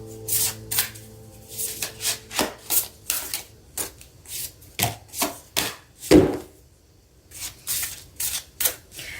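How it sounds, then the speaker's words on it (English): Oracle cards are shuffled by hand in quick, papery riffles and taps, repeated bursts close up and fairly quiet, with no talking. "I'm just gonna pull some oracle cards for this energy."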